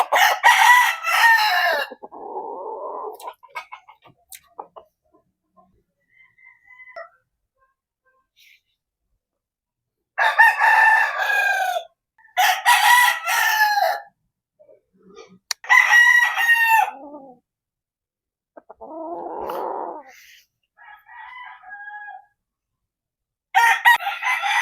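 Dome breed chickens in a backyard flock crow loudly and repeatedly, several long cock-a-doodle-doo calls spaced apart with softer clucks in between, close by with quiet gaps.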